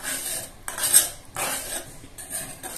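A spoon stirring cream into cooked spinach for palak paneer in a pan, four or five rhythmic scraping strokes with light metallic clinks, close and fairly soft, with no talking.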